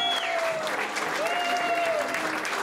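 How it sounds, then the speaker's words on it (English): Sustained applause from a wedding crowd, a steady dense wash of clapping filling the whole moment, with faint tonal sounds drifting over it. "Nice round of applause"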